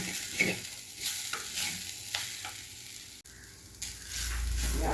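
Sliced onions stirring and frying in hot oil in a pan for a Kerala roasted ginger curry, a steady close sizzle broken by scraping stirs, with a louder burst of frying near the end.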